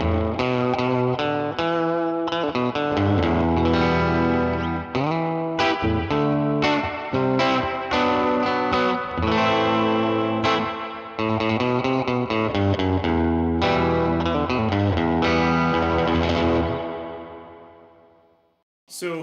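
Electric guitar through a Purdy Tube Amps reverb pedal into a tweed amp, played rowdy surf style; fast, dense strummed and picked notes wash in heavy reverb, loud throughout, then fade out to silence near the end.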